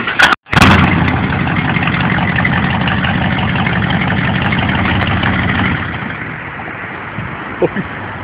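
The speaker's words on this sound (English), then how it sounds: "dual exhaust system on a Ford Bronco, done by Scrapper Customs." A Ford Bronco fitted with a custom dual exhaust by Scrapper Customs idles with a steady, loud, deep rumble that drops to a softer idle for the last couple of seconds.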